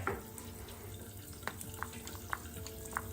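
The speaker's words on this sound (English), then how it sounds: "get the face nice and wet with a little water" Small splashes of water as hands wet the face over a sink, several soft intermittent slaps and drips against a low running hiss, close and quiet.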